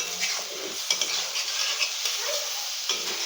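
Salted tomato masala stirred and sautéed in a pan, a continuous close sizzle broken by repeated scraping strokes of a spoon against the pan, with no talk.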